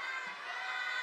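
A children's congregation at a Korean children's Daniel prayer meeting lets out a loud, sustained shout to God, a bright, dense burst of many young voices cheering together.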